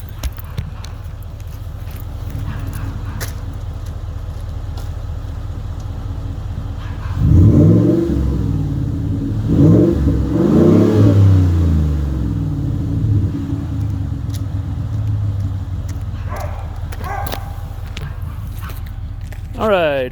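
A 2016 Ford F150 with a 5.0 engine and Flowmaster Super 50 side-exit exhaust idling with a deep rumble, then several bursts of revving heard from behind the truck, close and loud.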